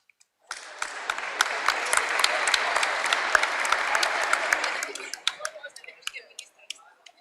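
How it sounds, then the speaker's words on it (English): An audience at a business forum applauds as a speaker is introduced: dense, steady clapping that starts abruptly, holds for about four seconds, then thins into a few scattered claps before stopping. "A lot of people from IDB Invest over here applauding"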